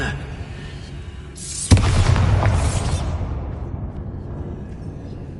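The Bombarda spell goes off in Hogwarts Legacy as a sudden loud explosion: a sharp crack over a quiet bed, then a roaring, crackling blast that lasts about a second before fading into a lingering low rumble.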